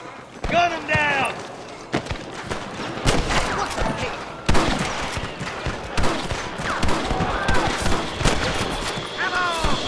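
Rapid gunfire in a Red Dead Redemption shootout, with sharp repeated shots and bursts scattered throughout amid shouted voices and thuds, loud and close.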